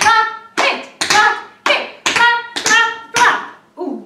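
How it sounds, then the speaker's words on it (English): Warm-up rhythm in a primary school lesson, with sharp resonant claps and hits on objects in a steady pulse, about eight strikes each followed by a short ringing decay, loud and near, with no speech. "Clap, hit, clap."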